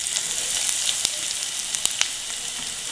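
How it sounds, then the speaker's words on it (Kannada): Mustard seeds, cumin and asafoetida sizzle steadily in hot oil, a loud continuous hiss dotted with sharp pops and crackles as the seeds spit. "ಎಣ್ಣೆ ಕಾದ್ಮೇಲೆ 1/4 ಟೀ ಸ್ಪೂನಷ್ಟು ಸಾಸಿವೆ, 1/4 ಟೀ ಸ್ಪೂನಷ್ಟು ಜೀರಿಗೆ, 1/4 ಚಮಚದಷ್ಟು ಇಂಗು"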